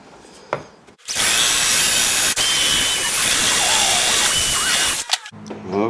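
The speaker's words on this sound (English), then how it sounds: "So let's finish drilling that first hole." A power drill bores a hole in the stern piece of a flats skiff being built. The loud, steady whine runs for about four seconds without a break, then stops, with faint handling noise before and after.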